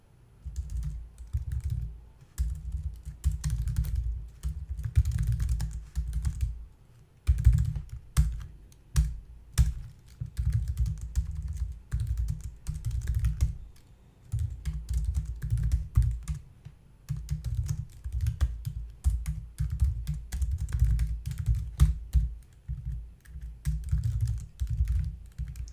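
Steady bursts of close computer-keyboard typing as code is entered, clacking keys in quick runs separated by short pauses, with no voices.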